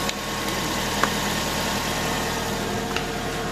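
A car engine idles steadily at close range after a radiator water pump pipe repair, with a continuous low hum and a couple of faint ticks. No one talks.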